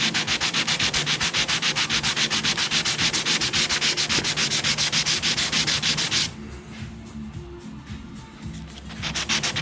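Hand block sanding with 60 grit sandpaper on a Ford Falcon XB GS car body panel in a shed: fast, even back-and-forth rasping strokes, loud and close, pausing briefly near the end before resuming.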